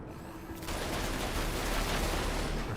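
A strafing run in the Menace video game opens after a brief quiet moment. Dense, continuous gunfire then roars steadily at an even level to the end.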